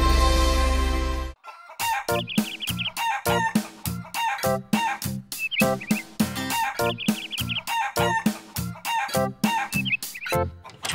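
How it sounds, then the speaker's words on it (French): A rooster crows loudly and repeatedly while hens cluck in quick bursts around it, a busy, close farmyard chorus. "Un coq par-ci, un coq par-là"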